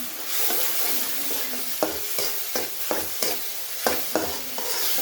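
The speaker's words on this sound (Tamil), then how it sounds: "வெங்காயம், பட்டை எல்லாம் போட்டு நல்லா வதக்கலாம்." Ground paste sautés with onion and cinnamon in a pan, a close, sizzling hiss broken by repeated rhythmic spatula scrapes and knocks roughly every half second.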